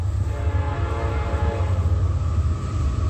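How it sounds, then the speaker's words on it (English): A train horn at 1:48 a.m. sounds as one sustained, steady blast filling the whole stretch, fairly loud and alone with no speech. "immediately a train horn sounds"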